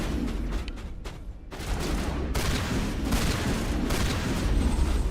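Sustained gunfire from the Mass Effect 1 video game, a dense, continuous fusillade of rapid shots and booms that fills the whole stretch loudly with little pause.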